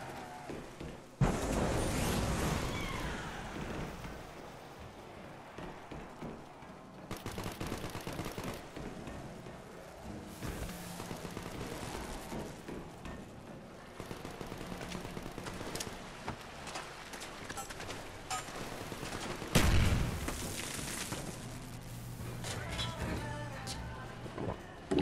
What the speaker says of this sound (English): I'm shooting them so they don't respawn